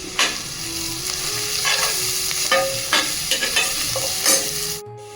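Ginger garlic paste, turmeric and salt fry in a pan with a loud, steady sizzle, broken by scraping stirs of a spatula, before cutting off abruptly at the end.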